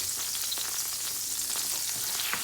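Garlic sizzling in a small amount of hot oil in a pan, a steady close crackle with faint stirring scrapes, no voices.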